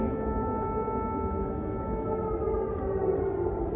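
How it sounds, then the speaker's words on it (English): Air raid sirens wail across Kyiv during wartime, a steady sustained tone held at an even, moderate level from a distance with no break, and nobody talking. "There's air raid sirens going off in Kyiv."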